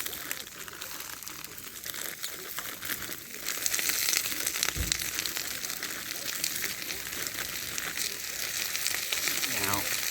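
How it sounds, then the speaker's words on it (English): Semi-frozen stir fry vegetables crackle and sizzle in hot oil in a pan over a campfire, a steady dense frying hiss with crinkly spatters throughout, close and fairly loud. "mixing it with that oil in there, it can spatter on you"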